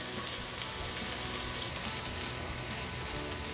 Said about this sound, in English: Our skillet is hot, so now we're going to saute our veggies